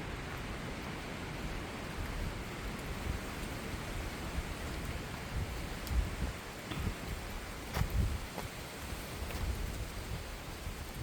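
Rain falls outdoors as a soft, steady hiss, fairly faint and continuous, with a few louder gusts or bursts partway through and no voices.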